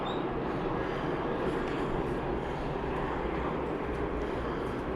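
Airplane at San Diego Airport, a steady broad engine roar that holds evenly at moderate distance for several seconds, with no voices over it.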